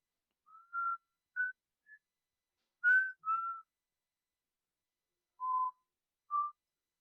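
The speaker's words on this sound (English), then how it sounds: "just this eerie whistling, this like very somber tune" Someone whistles a slow, eerie, somber tune in sparse short notes separated by long silent gaps, faint and alone with nothing else audible.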